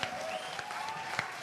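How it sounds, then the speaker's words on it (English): Audience applause at the Hong Kong premiere of a kids' Winnie the Pooh stage performance, a dense steady clapping that fills the moment without talk. "let's give a big warm of applause to the Hong Kong premiere of"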